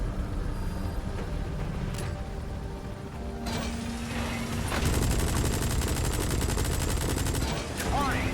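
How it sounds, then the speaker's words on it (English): An anti-aircraft gun fires in Metal Gear Solid V amid helicopter and mechanical background noise: a fast, rhythmic stream of loud shots starts midway and keeps hammering to the end, with brief game voices. "An AA gun."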